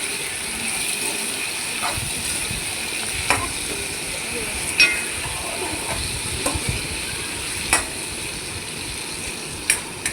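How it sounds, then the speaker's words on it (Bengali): Chopped onion sautés in oil in a pan, a soft, steady hiss with occasional sharp spatula scrapes and clicks scattered across, no talking. "একটু পেঁয়াজ কুচি দিয়ে দিলাম।"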